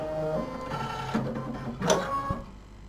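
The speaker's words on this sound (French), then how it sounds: "on appuie sur ici la petite touche ici qui montre que le fil va s'enfiler dans l'aiguille" A Brother embroidery machine runs its automatic needle threader, giving close mechanical whirring, clicks and a short motor buzz, with no talking over it.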